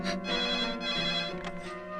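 A telephone rings in a Tamil film scene, its sustained electronic ringing tone repeating steadily and fairly loud, with no voices over it.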